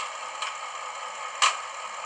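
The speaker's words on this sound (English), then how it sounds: "F18, we have the cab door open and close." Cab door open and close sound function of a Roco Siemens Eurorunner model locomotive in Adria Transport livery: two faint, brief clicks, the second sharper, over a steady hiss, with no talk.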